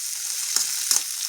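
Spices crackling in hot oil as a tempering for kantola (spiny gourd) curry, a steady bright sizzle with two brief louder pops standing out, close and alone.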